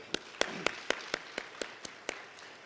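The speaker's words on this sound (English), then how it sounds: "Can we give our panel a hand of applause?" Slow, evenly spaced claps ring out at a human rights conference panel in South Africa, about ten in a steady rhythm, sounding like sparse applause from a small group.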